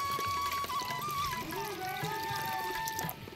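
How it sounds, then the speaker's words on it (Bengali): Water pours steadily into a freshly planted pot in a Bengali village mud-house courtyard, a continuous close trickle and splash running for a few seconds with faint background voices. "ভর্তি করে আমরা জল দিয়ে দেবো এটাতে একদম গাছ লাগানোর পরে"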